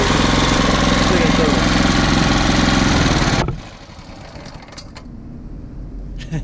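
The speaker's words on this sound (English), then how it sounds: "Okay, we reduced it down to an idle. And it's running mighty smoothly." An engine running on bacon grease in place of oil idles with a loud, steady, even chugging, then cuts away abruptly to a quiet background with a few faint clicks.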